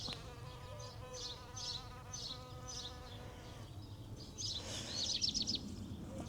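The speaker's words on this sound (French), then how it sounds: "Je ne sais pas si vous voyez le bourdon." Bumblebee buzzing around plants in a spring vegetable garden, a soft, fairly close hum that comes and goes, with faint bird chirps in the background.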